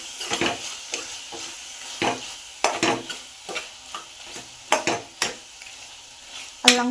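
Garlic, cumin and coriander paste is stirred into mutton curry frying in a pan, sharp scraping strokes recurring every second or so over a low sizzle.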